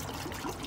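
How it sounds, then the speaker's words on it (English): Diesel fuel splashes and trickles from a Freightliner truck as the old fuel filter is pulled up and out, a brief close, soft liquid dribble. "you are gonna have some diesel that's gonna kind of splash back"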